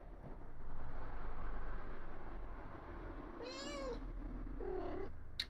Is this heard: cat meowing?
yes